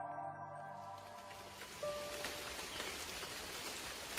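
Rain falls as a soft, steady hiss of drops on a surface, fairly quiet and continuous, with a brief tone fading out at the start and no speech.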